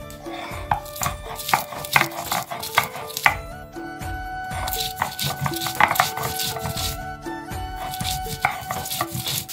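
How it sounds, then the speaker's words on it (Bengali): Green chillies are ground for a Bengali chanda fish curry with potatoes, producing repeated close knocking and scraping strokes in an uneven rhythm, with a voice speaking at moments. "এখন বেটে নেব কাঁচা লঙ্কা"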